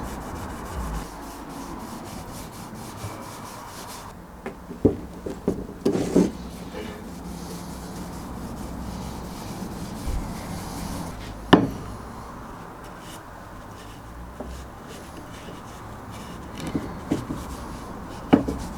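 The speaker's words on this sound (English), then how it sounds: "I'm going to put it on with this dirty old rag." A dirty old rag rubs oil onto a rusty pick head, giving a steady soft scrubbing and wiping sound with a few sharper knocks and clicks, close up with no talking.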